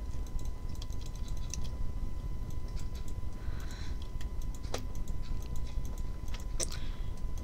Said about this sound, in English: Sorry if you guys can hear the clicking.